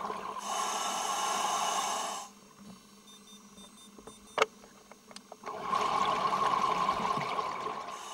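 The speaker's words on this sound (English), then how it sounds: "I could now hear the regulator whining with every breath" A scuba regulator on a deep Red Sea reef dive at Thomas Reef breathes in loud, hissing, whining bursts, with a long inhale, a quieter pause with bubbling clicks and a sharp knock, and then another strong breath.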